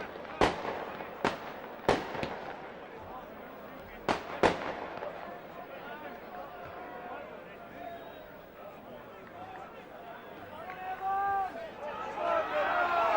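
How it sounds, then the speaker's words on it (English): Fireworks at a football ground before kick-off at a Workington v Whitehaven match: several sharp loud bangs in quick succession early on, then a pair more, followed by a steady crowd murmur with some voices audible. "Well, certainly get the money's work out of the fireworks."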